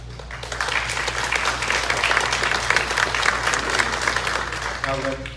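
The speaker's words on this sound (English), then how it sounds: "I think you deserve a round of applause" Audience applause for candidates at a 2018 Delaware Republican US Senate debate, steady broad clapping from a crowd lasting several seconds, with a voice starting to speak as it ends.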